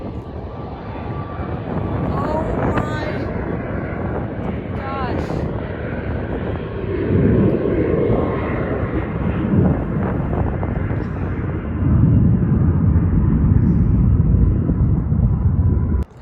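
A Spirit passenger jet roars past overhead while landing, its engine noise swelling and rushing with wind buffeting the microphone; a person exclaims briefly.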